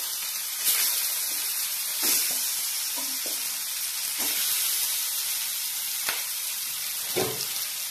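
Fish pieces, for a coconut fish curry, sizzle steadily in hot oil, a constant loud hiss with occasional sharper spits and crackles as they fry.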